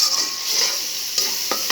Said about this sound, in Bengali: মশলাটা খুব সুন্দরভাবে কষিয়ে নিচ্ছি।